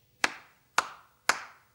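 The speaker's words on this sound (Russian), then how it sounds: "Маруся хлопает в ладоши" Three sharp, close hand claps, evenly spaced about half a second apart, each ringing briefly into a quiet room.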